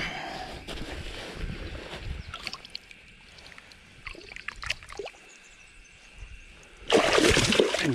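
A 43 cm golden perch (yellow belly) is swished through river water, giving soft trickling and splashing with a louder splash near the end, outdoors with no talk.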